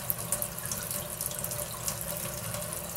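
Water runs steadily from a tap into a sink as part of a homemade CO2 bed bug trap setup. The flow is close and continuous, with a light splashing texture and a few small drips and clinks. There is no speech.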